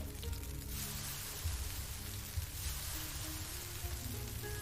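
Steady rain falls in the video game Unavowed, a constant hiss of drops on a street surface with a low rumble beneath, running evenly throughout with no voices.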